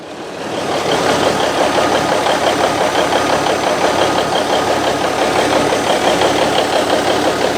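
A Cummins diesel in a 1971 Autocar A64F truck with an exhaust leak fires up and settles into a loud, steady, slightly knocking idle, heard close and alone with no talking.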